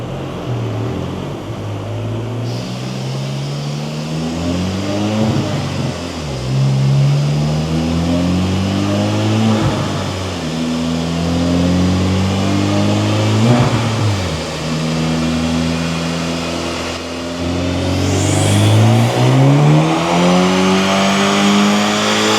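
A 2024 Acura Integra DE5 with a Hondata flex-fuel E85 tune revs hard through repeated dyno pulls. The engine note climbs steadily in pitch, drops briefly between gears, then climbs again, loud and close throughout.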